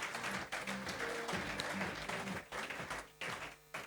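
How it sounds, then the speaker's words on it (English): Applause at the Red Bull Illume Image Quest 2019 winner award ceremony in the Lumen Museum on Kronplatz: quiet, somewhat distant clapping from a gathered crowd, continuous with small dips and surges. "I will ask you also for this big applause"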